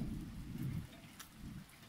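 Rain falls steadily during a thunderstorm in Joensuu, with a low rumble of thunder rolling under the hiss of the rain.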